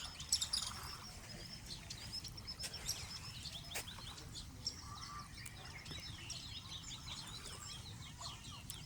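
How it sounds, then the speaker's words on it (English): Mallard ducks calling outdoors, with faint quacks and chirpy bird calls scattered over a soft background hum. The calls are quiet and intermittent and seem to come from several birds at a moderate distance. "The mallard duck sounds."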